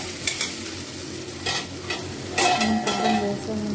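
Okra (ladies fingers) being stirred while dry-frying without oil in a pan, an even sizzling hiss with repeated scraping stirs and a few clinks of the utensil, close and with no talk.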